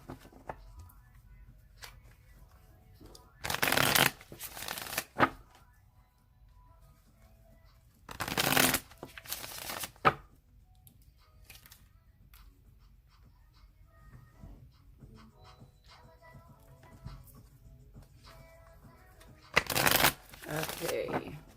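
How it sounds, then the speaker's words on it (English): Tarot deck being shuffled by hand, three crisp riffling bursts spaced apart, close and clear against quiet room tone with only faint background sounds between them. "I'm going to shuffle it 3 more times"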